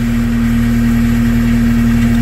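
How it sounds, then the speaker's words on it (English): A GEHL 4240E skid steer loader sits idling during warm-up, its engine putting out a loud, steady, close-up drone with a constant low pulsing throb and no talk over it. "kailangan mo muna mag-warm up for about 2 to 3 minutes or 2 to 5 minutes or something like that para mag-warm up yung engine, hydraulic oil"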